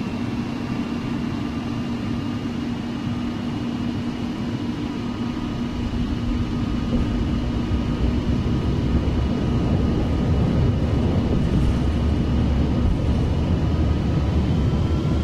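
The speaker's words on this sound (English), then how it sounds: "Boeing November 737 Tango, cleared for takeoff, runway 27 right." A Boeing 737 airliner rolls for takeoff on the runway, its engines a steady, loud roar that builds in strength partway through, with no voices.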